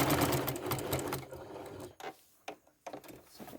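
A sewing machine stitches across a quilt seam, a fast close rattling whir for about two seconds, then a few short stop-and-start bursts.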